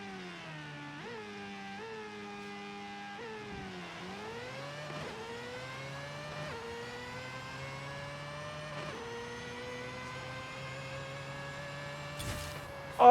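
A 700 hp 2002 Mazda RX7 with a drag tune in Forza Horizon 5 does a burnout and a 7,000 RPM launch. The engine howls steadily, its pitch climbing and then dropping at each of several gear shifts, with no voices.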